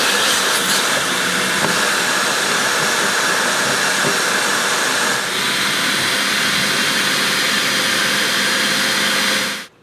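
A vacuum cleaner drives a Lint Lizard dryer vent cleaning attachment, holding a loud, steady roar for nearly ten seconds before cutting off abruptly at the end.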